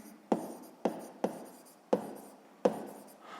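A pen writing by hand on paper while working a sixth-grade math exercise: five quick, scratchy strokes, close and fairly quiet, each a short burst that fades before the next.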